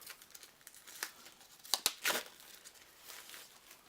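Crinkling and tearing of plastic wrapping inside the box of the Last Friday board game, close and soft, with scattered rustles and a few sharper crackles bunched near the middle.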